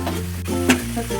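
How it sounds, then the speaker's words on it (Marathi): Spices with paneer masala and half a spoonful of turmeric frying in oil, a short close sizzle with scraping stirs and a brief clatter midway. "मसाले चांगले भाजले पाहिजे तेलामध्ये"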